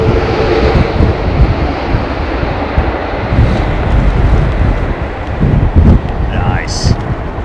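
Passenger airliner landing at London Heathrow during Storm Kathleen, a steady broadband engine roar with reverse thrust blended into heavy wind buffeting the microphone, loud and continuous throughout.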